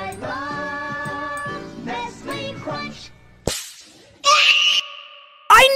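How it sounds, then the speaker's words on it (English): The Nestle Crunch meme scream sound effect bursts in abruptly near the end as a harsh, loud scream after a stretch of musical meme audio, with a sharp snap and a second brief burst at the close. "Gosh, we love a good old Nestle Crunchy Scream."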